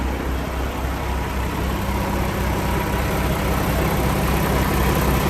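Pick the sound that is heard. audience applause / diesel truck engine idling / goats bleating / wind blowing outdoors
diesel truck engine idling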